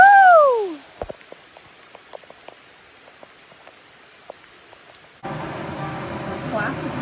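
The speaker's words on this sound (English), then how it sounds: "And then God said, Let it rain, baby! Rain." Rain falling in El Yunque rainforest, Puerto Rico, coming in as a steady wash of patter over the final couple of seconds after a brief voice at the start and a quiet stretch of scattered drips.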